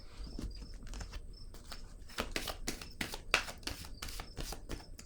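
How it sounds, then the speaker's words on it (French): Tarot cards handled and laid down on a table, with a quick run of soft papery slaps and rustles, close and moderately loud, no talk. "Je vais déposer une autre carte ici."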